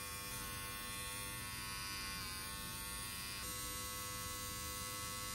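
A 3-in-1 waterproof electric bikini trimmer with its body blade running, giving a steady, close, even motor buzz and hum that holds throughout with a slight shift in tone midway.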